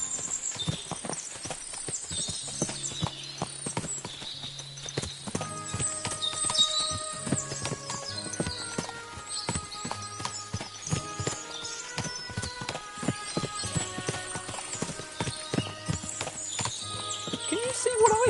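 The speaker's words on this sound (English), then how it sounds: "What a lot of horses!" Horses' hooves clip-clop in an irregular, overlapping patter, with whinnies breaking in now and then; voices speak intermittently over the busy hoofbeats, in the video game Kingdom Come: Deliverance II.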